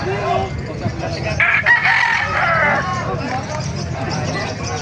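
Chickens and roosters at the Bocaue tyangge market cluck and crow loudly in a sustained mid-clip crow, under nearby conversation and market chatter.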